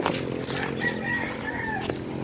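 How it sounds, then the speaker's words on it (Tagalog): Gamecocks kept for cockfighting crow and cluck outdoors at a rural hillside farm in the afternoon, the calls rising over steady background noise with no talk. "Wala kang ibang maririnig dito kundi huni ng manok"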